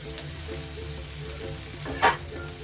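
Okra and potatoes dry-fry with spices in a pan for aloo bhindi, a close steady sizzle with a brief scrape of stirring near the end and no talk.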